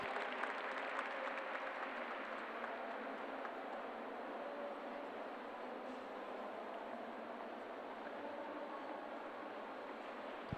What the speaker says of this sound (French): qui aura le plaisir d'entendre vos applaudissements retentir.